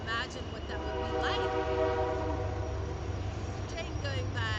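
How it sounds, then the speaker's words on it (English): A train passes at close range with a steady heavy rumble throughout, while horn-like tones sound over it, near Mt. Shasta in snowy weather. "Train going by."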